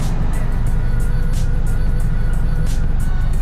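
A car engine hums close by, loud and steady, as the car drives off slowly with a continuous low rumble.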